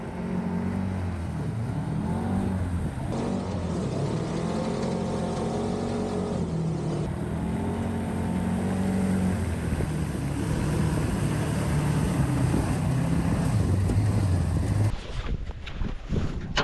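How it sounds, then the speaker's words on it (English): An amphibious jet boat's engine drones loudly and steadily on the water, its pitch shifting as the revs rise and ease, with wind buffeting the microphone and a rougher burst near the end. "I drop the revs off a little bit because I don't want to blow the motor"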